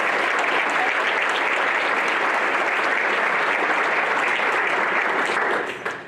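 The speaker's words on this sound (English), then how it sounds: "Let's give them a round of applause" A large audience at a county board of education meeting applauds steadily, a dense, loud wash of many hands clapping that holds for several seconds before tapering off at the end.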